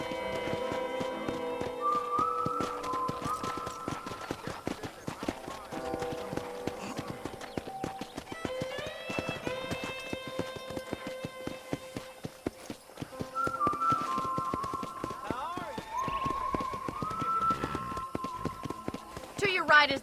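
Horse hooves clip-clop at a steady riding pace in the Red Dead Redemption video game, close and rhythmic, under a speaking voice and light background music.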